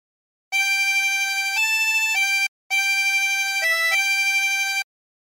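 A harmonica plays the hymn Nearer My God To Thee, two sustained phrases of steady reedy chords that shift pitch partway through each, with a short gap between them and no talking.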